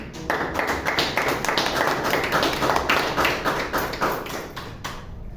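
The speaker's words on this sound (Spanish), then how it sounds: "Damos fuertes aplausos a Jesús" A church congregation claps together in a steady, fast, dense rhythm, the applause loud and continuous for several seconds before it trails off at the end.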